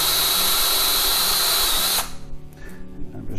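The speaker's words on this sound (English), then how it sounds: "So once again, wire brush." Power drill spinning a wire brush to clean pipe joints while fitting a pressure tank to a water heater, a loud whine for two seconds, then stops, followed by faint rattling handling noise.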